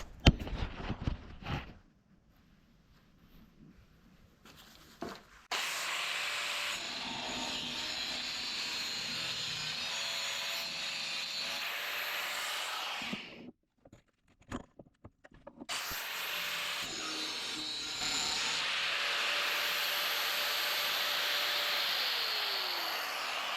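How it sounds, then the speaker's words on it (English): Cutoff wheel with no guard slicing a metal fabrication tube for truck seat mounts, a loud steady high grinding whine that runs for several seconds, stops briefly, then starts again with a rising and falling tone. "I'm not running a guard on this guy and I'm still running that crappy cutoff wheel"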